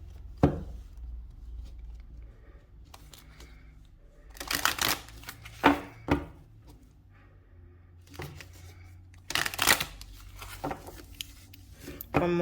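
Several bursts of crisp riffling and flapping as tarot cards are shuffled, arriving in short clusters with quiet handling noises between them.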